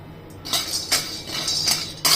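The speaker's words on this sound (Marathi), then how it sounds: "आता आपण एका ताटात काढून आपण भाजतोय शेंगदाणे" Peanuts are dry-roasted in a pan and stirred, giving a series of clinking, scraping metallic knocks every half second or so, close and clear, with no talking.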